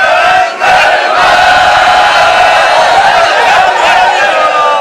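A crowd at a Shia majlis mourning gathering raises religious slogans together, a loud, dense mass of voices that swells and holds steady for several seconds with a brief dip near the start.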